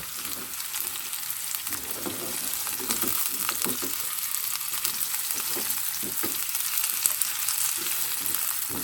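Carrots, onion, scallion and large red chili stir-frying in a pan for tofu with sweet and sour sauce, a steady loud sizzle with scraping stir strokes throughout, no talking.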